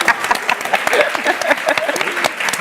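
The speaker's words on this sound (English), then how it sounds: "Yes, you can clap." Audience applause at an entrepreneurship talk, a dense burst of many hands clapping close and loud for nearly three seconds, with no voices over it.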